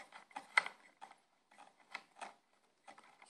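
Screw being backed out of an Elx112 speaker cabinet, heard as a series of short, close, quiet ratcheting clicks and scrapes in uneven bursts, alone with no talking.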